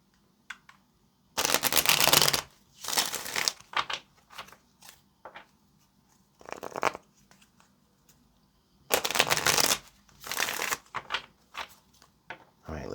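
Tarot cards are shuffled in two riffling bursts separated by quieter handling, with scattered taps and card clicks between them, close and fairly soft.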